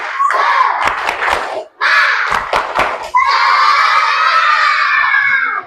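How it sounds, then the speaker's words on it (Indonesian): A classroom of children performs the tepuk semangat clapping chant, with sharp rhythmic claps broken by loud, high group shouts and ending in a long, sustained cry from all of them together. "Itu tepuk semangat."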